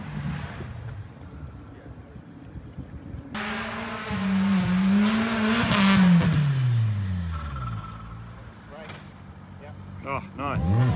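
Modified Midget car thrashed around a golf course, its engine revving and rising in pitch through a loud acceleration, with people talking over it before and after the run.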